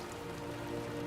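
Heavy rain falls steadily at a graveside funeral in Gotham, a dense, even wash of drops on surfaces with no voices, continuous and close throughout.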